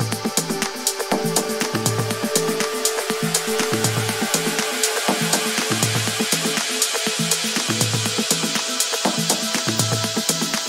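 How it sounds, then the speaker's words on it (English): Bright, full-spectrum progressive house melodies, with sustained synth tones and hissy airy layers over a steady pulsing low end, a dense, moderately loud mix with no voices. "we have those beautiful melodies that just carry out the track, fill the entire spectrum, and they sound a little bit like this."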